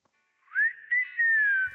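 A video game character whistles a single short, rising-and-falling tune of a few clear notes, close and alone, with no talk over it.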